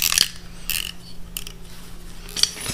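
A knife shaving plastic tabs off a Mustang clutch cable: three or four short, sharp scraping strokes close by, evenly spaced, with quiet pauses between them.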